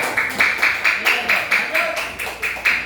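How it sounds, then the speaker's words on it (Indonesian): Participants at a teacher training session clap for students in quick, regular rhythmic bursts, loud and close, the group's claps landing almost in unison for a few seconds. "kasih tepuk tangan"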